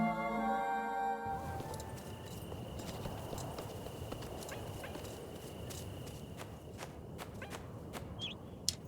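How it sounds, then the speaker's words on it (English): A bird call sounds in a video game, a short gobbling cry at the start that gives way to quiet clip-clopping steps and faint ambient noise. "Bird."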